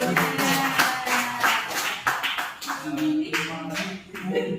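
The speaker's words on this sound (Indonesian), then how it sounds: "Kasih tepuk tangan." Group clapping at a teachers' meeting, with irregular claps from several people at close range and voices talking over and between them.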